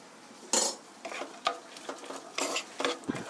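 Carrots being stir-fried in a pan for broccoli spaghetti, a utensil scraping and clacking against the metal in uneven strokes over a soft sizzle, close and clear with no voices.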